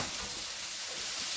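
Steaks fry in a hot pan with a close, steady hiss and crackle of sizzling fat, loud and unbroken.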